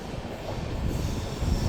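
Train passing through dense forest on the Goa to Secunderabad line near Dudhsagar, a short burst of rumbling wheels and rail noise with a squealing edge, steady and fairly loud.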